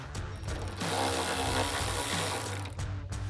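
A hand ratchet loosens a sway bar end link on a Ram 1500 during a suspension lift install, giving a close, steady run of rapid clicks with a few short pauses.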